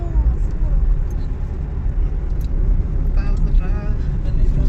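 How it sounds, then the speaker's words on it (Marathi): Car cruising on a highway heard from inside, a loud constant low road rumble and engine hum with faint rattles, while people talk over it. "आणि पुन्हा इथे ड्रायव्हिंग करतायत संदीपची"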